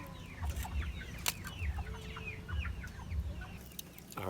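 Country-style farmyard chickens cluck repeatedly in short bursts close by, with a low hum of background noise beneath the calls and no talking.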